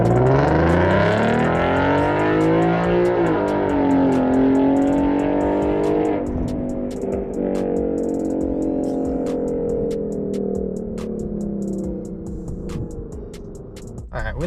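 A 3.7L Ford Mustang V6 revs aggressively, loud and close, its engine note climbing and falling through repeated sweeps before settling into a lower rumbling drone.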